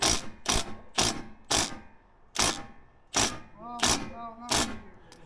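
Railing hardware being tightened, giving a run of sharp, evenly spaced ratcheting clicks in bursts, close and moderately loud, with a few faint squeaks between strokes and no talking.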